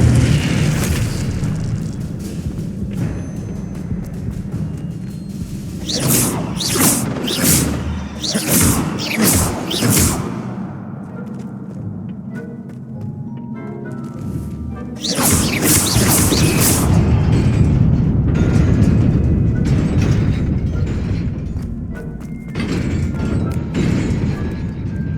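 Repeated booming fire-spell blasts from Incendio casting in Hogwarts Legacy, loud bursts in clusters around the middle and again later, over a constant rumbling game background.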